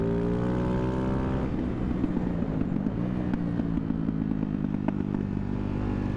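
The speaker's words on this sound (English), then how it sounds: "I'll just listen to the crack and pop." Single-cylinder engine of a Ducati Hypermotard 690 riding in Arizona: a steady droning engine note with wind rush, with faint scattered crackles and pops from the exhaust, continuous and close with no talk.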